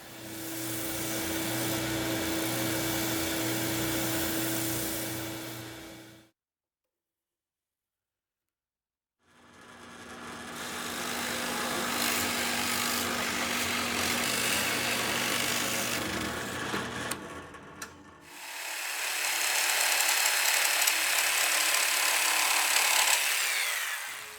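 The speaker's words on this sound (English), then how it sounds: "I can get it right up to the line on my sander" A power sander grinds jigsaw-cut wood down to a marked line in two long whirring runs, loud and steady with a motor whine, separated by a brief silence and followed by a rougher third pass.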